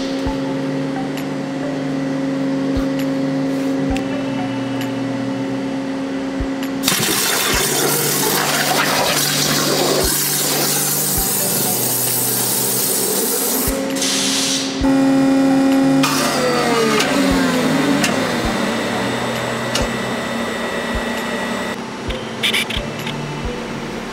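A waterjet machine cuts a fly reel part, a loud hissing water blast that surges in after a steady mechanical hum, continuing with changing intensity and splashing.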